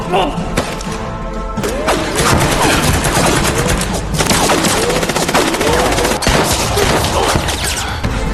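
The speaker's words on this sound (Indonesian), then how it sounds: "sang kapten pun memerintahkan pasukan untuk menembak Ming" Troops firing guns in a film scene, dense overlapping bursts of rapid gunfire with thuds and crashes, loud and continuous under a tense music score.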